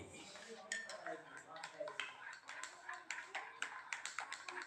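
Milk and water being stirred together in a pot, a quick run of metallic clinks and scrapes from a utensil against the pot, close and fairly busy, with a voice talking over it.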